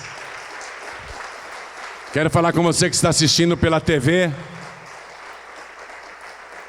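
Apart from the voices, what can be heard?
audience applause in church service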